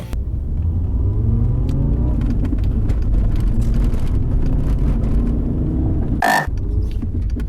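Interior cabin of a Volkswagen Golf 4 estate car on the move, a loud steady low-frequency rumble of engine and road noise, with a brief sharp sound near the end.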